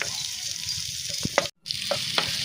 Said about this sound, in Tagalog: Sa parehong kawali, igisa ang sibuyas.